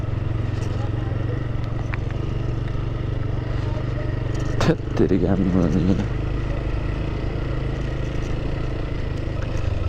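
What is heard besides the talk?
scooters riding slowly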